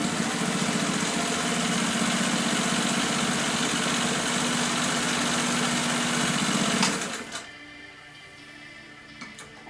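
A Singer 99K sewing machine runs with a steady, even mechanical hum and rapid stitching rhythm for about seven seconds, then stops, leaving faint clicks and handling noise.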